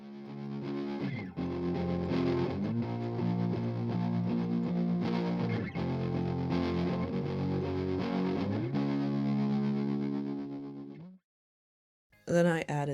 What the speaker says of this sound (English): the main fuzz pedal. And just with the guitar plugin, it sounds like this.